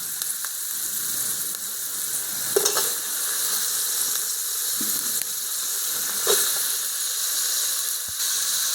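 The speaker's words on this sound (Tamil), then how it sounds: "வெங்காயம் இதில் போட்டு நல்லா வதக்கிடலாம். இது இப்போ வதக்கட்டுங்க." Onion and tomato sauté in a pan with fennel seeds for a tamarind curry, giving a continuous hissing sizzle with a few sharp utensil taps and scrapes, close and moderately loud.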